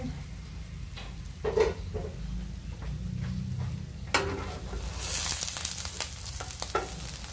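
Food sizzles and fries in a home frying pan just after being flipped, a steady crackle with a few utensil scrapes and a brief burst of louder hissing near the end.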